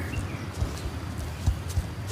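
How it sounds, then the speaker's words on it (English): A horse trots on a trail with soft, irregular hoof thuds. The footfalls sound fairly close but muted, over a steady background hiss. "she started trotting around, just being a goofy little horse"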